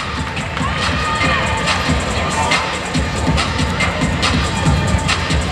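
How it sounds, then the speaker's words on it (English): Crowd in a basketball arena at halftime during a senior recognition, cheering and clapping with shuffling and thuds, a broad steady roar throughout. "How about a nice round of applause for number 5, Demaya Tony and family."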